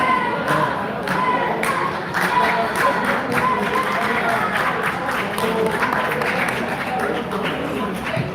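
Cricket crowd at a stadium final gives light, scattered applause, soft claps rising and falling under constant crowd murmur, with a commentator talking over the top.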